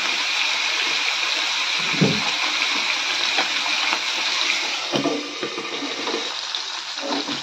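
Kalbaush fish frying in hot oil in a karai for a Bengali fish curry, a steady close sizzle running throughout with occasional soft scrapes and knocks from a thin spatula.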